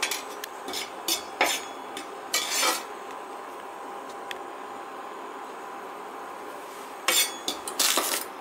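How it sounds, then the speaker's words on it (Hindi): Flour being dry-roasted for a white pasta sauce, with a spoon scraping and clinking against the metal pan in scattered bursts over a low steady background hiss. "थोड़ा सा इसे भूनना है आटे को पहले।"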